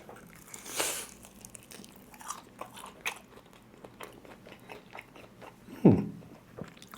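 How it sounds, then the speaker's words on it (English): Crunchy bites into air fried chicken wings followed by chewing, a few sharp crisp bites including a loud one near the end, close to the microphone with no talking. "let's try and dig in those wings"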